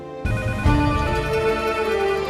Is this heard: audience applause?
no